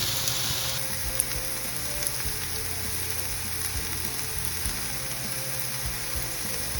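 Chopped vegetables for a vegetable lasagna sizzle steadily in a hot pan while being stirred, a continuous close frying hiss with faint scraping of the spoon throughout.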